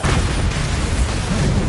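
A Bombarda blasting spell exploding in the video game Hogwarts Legacy: a loud, dense, sustained roaring blast filling the whole short moment.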